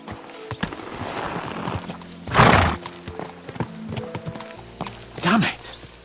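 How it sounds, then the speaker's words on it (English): Horses trotting with rhythmic clip-clop hooves in Kingdom Come: Deliverance II, marked by a couple of loud snorts or whinnies. It sits close and prominent, and game voices talk over it. "Let's really spur these horses on, eh?"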